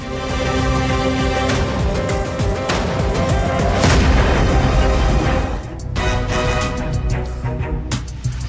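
Ballistic missile strikes land in a barrage of booms and explosive cracks, loud, rumbling and overlapping for several seconds before a brief lull and a few more blasts.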